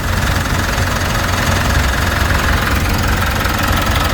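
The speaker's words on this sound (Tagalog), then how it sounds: "So maganda yung andar mga boss no. Napakatahimik yung andar." A 2016 Mitsubishi Montero engine idles after a drive belt replacement, a steady, even, close-up hum with a faint rhythmic ticking and no voices.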